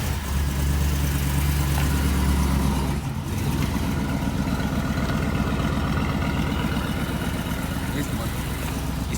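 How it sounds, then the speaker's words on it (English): A Chevy van with a turbo setup revs up steadily, a loud, close engine drone that holds its pitch throughout, with voices talking over it. "Just rev the van up a little bit, cut the AC off."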